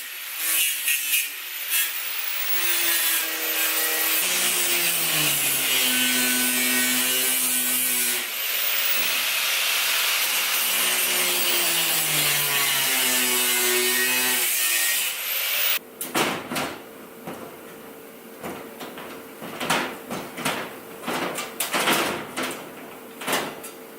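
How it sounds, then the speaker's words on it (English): A hand grinder runs on rusty body metal of a Nissan 240sx, a loud continuous whine with shifting pitch as it bears into the metal, changing near the end to rougher, choppy grinding. "I'm just going to use a grinder to finish it off."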